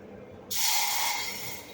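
After a brief quiet moment, a sudden loud sizzling hiss erupts as water hits a hot pan while making Maggi noodles, then fizzes steadily.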